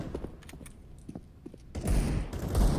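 Gunfire in the video game CS:GO: a quiet stretch of faint clicks and taps, then dense, loud bursts of rapid shots filling the second half.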